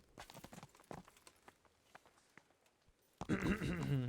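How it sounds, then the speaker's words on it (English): A plain horse walks in Kingdom Come: Deliverance, sparse individual hoof thuds spaced irregularly and fairly quiet, before a louder voice takes over at the end. "É só um cavalo simples, normal, padrão."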